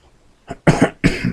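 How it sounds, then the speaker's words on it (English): One person coughs three times, a faint short throat sound followed by two loud, harsh, close coughs, with a brief gap between bursts and near silence before them. "excuse my cough"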